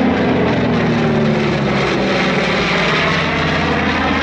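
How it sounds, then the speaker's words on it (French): Three F-4 Corsair propeller aircraft fly past at an airshow, making a loud, continuous engine roar that holds steady throughout. "Le F-4 Corsair est justement ces trois avions, ils se présentent."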